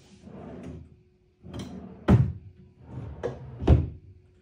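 Drawers in a finished condominium vanity slide open and shut several times, each stroke ending in a firm wooden thunk, with two louder bumps near the end, close up and with no talk.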